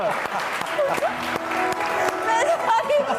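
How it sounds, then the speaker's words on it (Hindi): An audience applauds briefly on a Satrangi studio chat show, a steady patter of clapping that runs beneath lively speech and laughter. "तालियां।"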